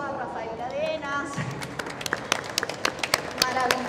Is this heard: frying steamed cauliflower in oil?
no